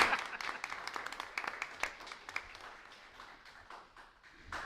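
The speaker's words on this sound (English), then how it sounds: "we have a round of applause for him," Scattered applause from a small audience at a public school board meeting, sharp individual claps at first that gradually thin out, fairly faint in a quiet room.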